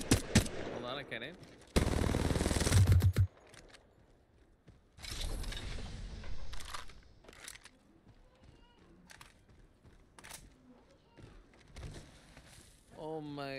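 Gunfire in the Apex Legends video game: a dense, loud burst of automatic shots near the start, then scattered quieter shots and mechanical clicks, with a player talking over parts of it.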